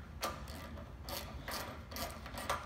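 A ratcheting wrench tightens the tank bolts on a 2017 Harley 883 during a tank lift, making a series of close, quiet ratchet clicks in a few short bursts with no talking.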